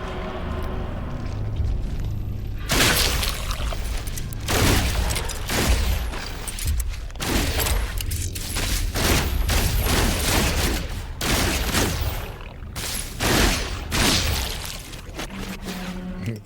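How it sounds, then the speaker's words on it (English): Gunfire in the video game No Man's Sky, rapid bursts of loud, sharp shots in quick succession over a steady background rumble, with bullets whizzing past nearby. "There's the bullets flying past my shoulder."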